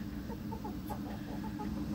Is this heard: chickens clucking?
yes